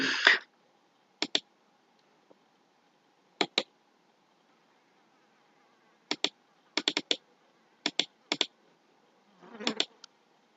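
Mouse clicks on a computer while working in MS Word, heard as sharp isolated clicks and quick double clicks spread irregularly through a quiet room, fairly close and alone.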